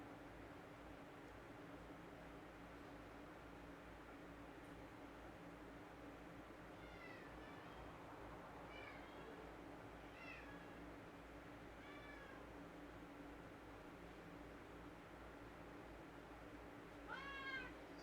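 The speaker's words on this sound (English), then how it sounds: "I'm fighting with my cat." A cat gives several faint, short meows spaced across the stretch, soft and somewhat distant over a constant hiss of background noise.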